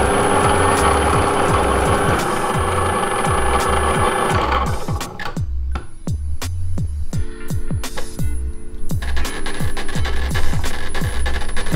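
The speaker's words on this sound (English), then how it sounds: "So it's just going to make some really strange noises." Electric mountain board hub motors running VESC motor detection: rhythmic mechanical clicking and whirring with steady tonal hums that shift pitch partway through, close and continuous, no talking.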